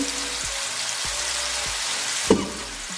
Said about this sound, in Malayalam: അങ്ങനെ നമ്മൾ ചെമ്മീൻ പൊരിഞ്ഞുകൊണ്ട് വരികയാണ്